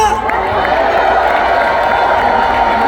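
Large outdoor crowd at a political rally in Yeouido opposing a presidential impeachment, a loud, continuous roar of cheering and shouting with scattered clapping mixed in, sustained at full level throughout.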